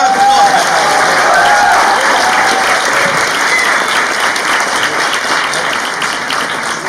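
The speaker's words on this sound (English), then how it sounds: "Can we please have a big round of applause?" Audience applause at India Day 2018 in Stockholm, a loud, sustained wash of clapping from a large crowd that slowly tapers, with a few voices audible within it.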